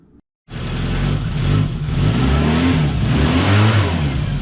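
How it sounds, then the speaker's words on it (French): A 1974 Volkswagen with a 1.5 litre engine fires up after a short silence and settles into a loud, close, steady running note with slight revving swells. "Donc ils viennent de la démarrer, ils viennent mettre un coup de pied, la voiture elle a démarré direct."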